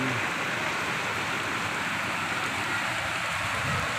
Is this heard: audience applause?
no